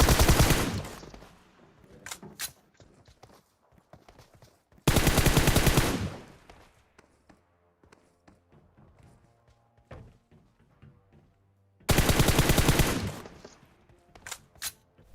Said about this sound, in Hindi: कोई लोहे के टावर से गोली चलाता है